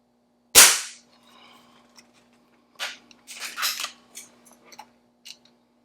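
Beeman 1020 spring air pistol firing an RWS Diabolo pellet, one sharp close crack with a brief ring, followed by a faint hum and quieter mechanical clicks and handling noises of the gun, no voices.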